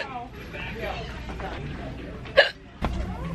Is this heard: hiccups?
yes